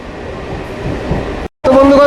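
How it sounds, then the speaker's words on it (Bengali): Loud rumbling rattle of a moving train on the Amghata–Krishnanagar railway line, broken by a brief dropout, then resuming with a whining tonal hum. "দেখতে পাচ্ছেন ট্রেন ছুটে চলেছে"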